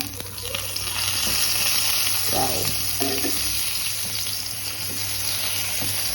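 Eggplant slices frying in oil in a home kitchen, a steady close sizzle running throughout with brief stirring and flipping clatters, no voices.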